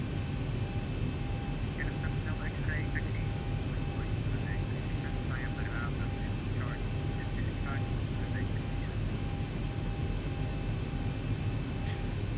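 A simulated Zibo 737-800 taxiing in X-Plane 11 gives a steady, continuous engine hum and whine that holds even throughout, with faint chirping blips and a thin radio-style tone drifting over it.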